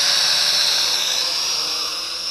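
A Kai Deng K60 drone flying over a field on its first flight, its propellers giving a steady, close, high-pitched buzzing whine that holds even and loud throughout with no talk.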